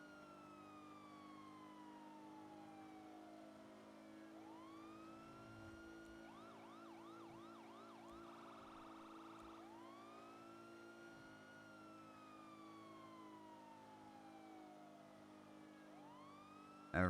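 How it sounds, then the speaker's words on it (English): An EMS vehicle siren in a GTA-based roleplay video game cycles through long wailing sweeps and a rapid yelping section, steady and loud with no talk over it. "Every once in a while, I'm like, I want to change which siren I use."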